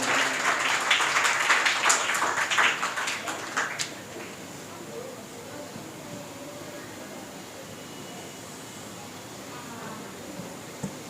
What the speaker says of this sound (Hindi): ज़ोरदार तालियों के साथ स्वागत कीजिए मिस्टर सैम मोमिन ऑन द माइक